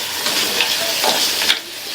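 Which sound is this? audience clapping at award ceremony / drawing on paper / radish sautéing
radish sautéing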